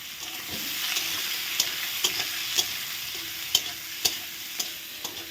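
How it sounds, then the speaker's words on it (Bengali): Onion and garlic frying in oil in a wok while being stirred, a constant soft sizzle punctuated by sharp spatula clacks against the metal at irregular intervals, no talking. "পেঁয়াজ রসুনগুলো তেলে দিয়ে দিলাম এখন পেঁয়াজ রসুন মেরে চেড়ে নেবো"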